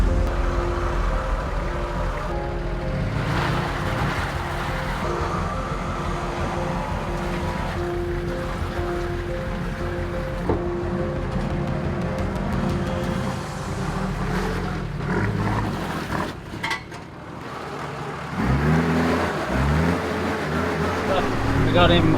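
A Nissan Patrol 4WD stuck in two-wheel drive strains up a rock garden in heavy rain in Bunyip State Park, its engine droning loud and close with a surge near the end and talk over it.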